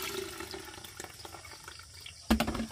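Grated coconut soaked in hot water is squeezed by hand at a seaside farm, giving soft wet squelches and trickling liquid, ending in a louder splashy burst of dripping coconut milk.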